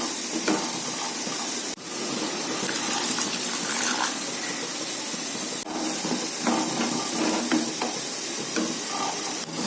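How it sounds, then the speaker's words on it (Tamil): Water pours steadily into a pan of cooking snake gourd, a continuous close splashing gush with a couple of sharp knocks against the pan. "இன்னும் கொஞ்சம் தண்ணி ஊற்றிடலாம்"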